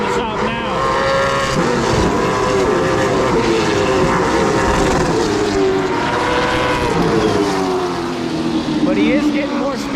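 A race car roaring around Florence Motor Speedway in 2022, its engine note rising and falling loudly and continuously as it laps, with a commentator talking over it.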